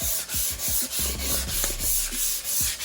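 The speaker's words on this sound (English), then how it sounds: "I'm just gonna go over here and just start sanding away again." Rhythmic back-and-forth scraping of sandpaper by hand on a metal motorcycle gas tank, about ten even strokes in a steady beat, close and clear with no talking.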